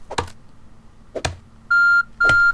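A timer in the Medieval Dynasty video game gives two short, steady electronic beeps in quick succession, following a few dull thumps from tree chopping.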